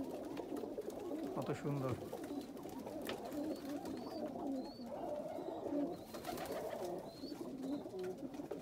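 Pigeons at an Omani loft coo in soft, repeated bursts at moderate distance, with a person speaking briefly over them near the start.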